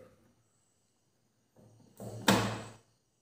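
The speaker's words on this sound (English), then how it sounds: "Then close the detergent tray." The detergent tray of a fully automatic washing machine slides shut with a short scrape and then a firm plastic thunk, close up, after a brief quiet pause.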